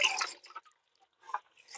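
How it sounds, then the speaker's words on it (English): Bleach water splashes and drips in a 5-gallon bucket as plastic bee feeders are rinsed clean. The splashes come in short, close bursts with brief quiet gaps and no voices. "So I'm using a little bleach water. I'm gonna clean these guys up."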